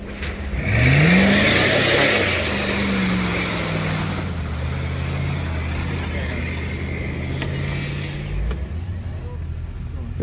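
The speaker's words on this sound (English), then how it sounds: "we've got that J10 going up that same hill that just saw the Eagle going up before the mudding video" A Jeep J10 pickup truck climbs a hill, its engine droning loudly with a rising rev at the start, then holding a steady labored growl along with wind noise for the rest of the climb.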